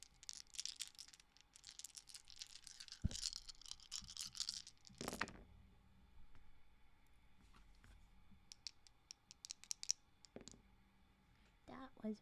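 Dice fitted with rings rolling and clicking on a surface, bursts of rapid small clacks in several separate rolls, close and fairly quiet, with a voice talking faintly in between.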